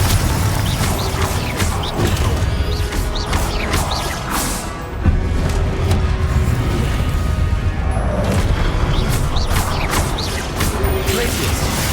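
Spellcasting combat in Hogwarts Legacy, with the Confringo fire spell among the attacks, brings dense, loud, rapid crashes, blasts and whooshes layered over game music and effects, with a constant busy roar and a brief dip midway.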